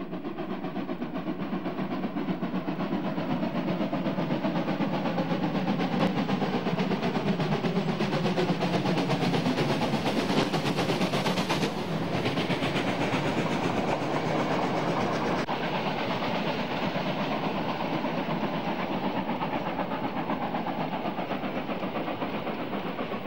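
Steam locomotive hauling a roughly 300-tonne freight train up a steady climb, a loud, sustained roar of exhaust and wheel noise close by, with rhythmic rail clatter and a shifting drone running throughout.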